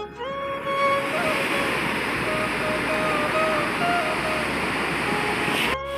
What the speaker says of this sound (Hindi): खतरनाक विकराल रूप में आ रखी है आज नदी